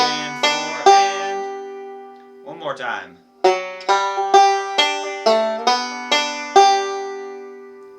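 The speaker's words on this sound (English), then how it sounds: "I'm going to do a 2 to 4 slide on the 3rd string while doing a forward roll" Beginner banjo forward roll with a 2 to 4 slide on the 3rd string, played as a bright, even stream of plucked notes close up; a voice speaks briefly in a gap before the picking resumes.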